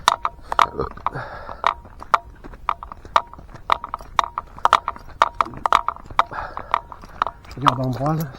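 Hooves of a horse pulling a cart clip-clop in a steady, close rhythm of sharp knocks, with a person speaking briefly and a short whinny-like sound near the end.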